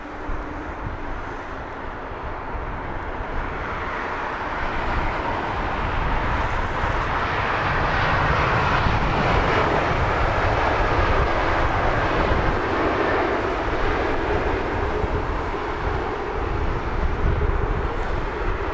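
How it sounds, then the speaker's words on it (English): A KLM Neo airliner descends into Heathrow's runway 27 right on a blowy day, its steady engine roar building and holding loud and broad for the whole stretch, with wind buffeting the microphone. "As we watch a very smart KLM Neo, complete with bandit mask, dropping down into Heathrow 27 right."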